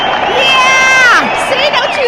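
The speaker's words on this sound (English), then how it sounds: "don't you love the applause?" Studio audience cheering and whooping on a radio talk show, lively shouts and clapping in a short continuous burst.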